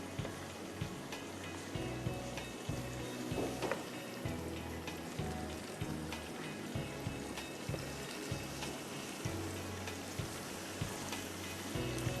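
Chicken biryani masala with onion fries in a pot, giving a thick, steady sizzle with bubbling and low rumbling beneath, close and continuous throughout.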